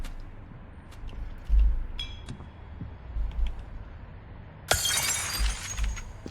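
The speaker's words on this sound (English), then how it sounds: "some of them actually make funny smashing noises" Objects shattering like breaking glass in the video game Cyberpunk Backrooms, with a bright burst of smashing near the end, over low thuds and a quiet game background.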